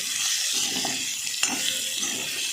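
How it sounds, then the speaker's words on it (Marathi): Eggplant curry sizzling in a pan as black chili powder is sautéed in, a steady loud frying hiss with occasional stirring clinks against the pan. "काळं तिखट घालून घेते मी असं चांगलं परतून घ्यायचं आहे"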